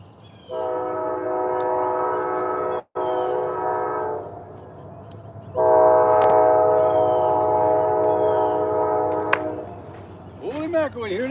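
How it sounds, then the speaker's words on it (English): A train passes near a fishing spot, its horn sounding two long, loud, steady blasts separated by a short gap, over a low rumble of the rail cars, with a brief voice near the end. "Holy mackerel, you hear that train?"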